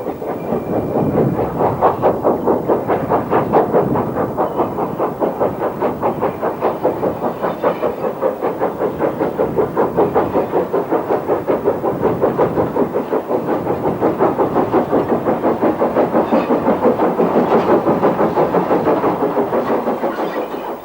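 A Lancashire and Yorkshire 0-6-0 steam locomotive rolls along with a steady rhythmic clickety-clack of wheels and a continuous heavy rumble, loud and close for about twenty seconds, with no voices.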